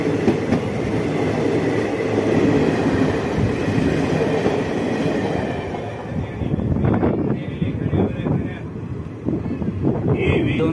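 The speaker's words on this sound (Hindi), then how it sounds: "Visakhapatnam Hazrat Nizamuddin Samta superfast express" The Samta Superfast Express between Visakhapatnam and Hazrat Nizamuddin rolls along through Odisha and Andhra, a loud, steady rumble of wheels and carriages with rhythmic clatter and wind buffeting the microphone.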